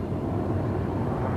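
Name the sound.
military helicopter approaching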